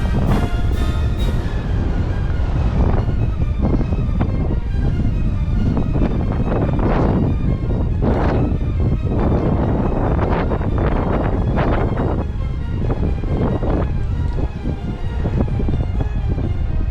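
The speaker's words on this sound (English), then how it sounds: "Nearly lost my hat, it's so windy up here." Strong wind buffeting the microphone on top of Fort Amherst, a hilltop fort in Chatham, making a loud, constant roar with gusty surges throughout and no voices.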